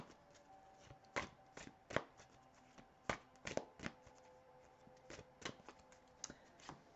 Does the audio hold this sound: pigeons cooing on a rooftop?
no